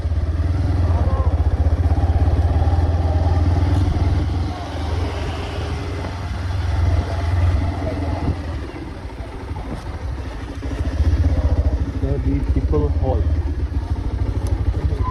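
A motorcycle engine drones steadily and loudly as the bike rolls into a hall in Karbi Anglong, with wind buffeting the microphone and people talking over it.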